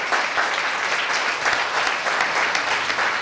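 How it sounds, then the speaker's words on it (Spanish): Church congregation applauding during a Spanish-language sermon, a dense, steady wash of many hands clapping close and loud, with no talk over it. "Den un aplauso al Señor."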